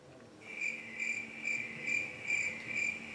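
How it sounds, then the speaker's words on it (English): Crickets chirp in a steady pulsing rhythm, bursts repeating about twice a second over a quiet background. "Guys, do you hear the crickets?"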